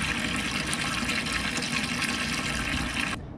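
Water draining steadily out of the tank of a vapor blaster, a continuous rushing, gurgling flow that runs evenly and then cuts off abruptly at the end.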